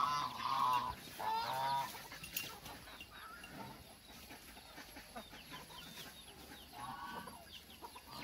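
Geese honk loudly and repeatedly among clucking chickens on a farm, with brief honking bursts at the start and more calls scattered throughout over a busy background.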